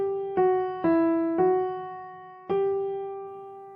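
Melodic ear-test phrase of four plucked or keyed notes starting on so and stepping through fa, mi, re, mi, fa, each a clean sustained tone with decay, played alone and fairly quiet.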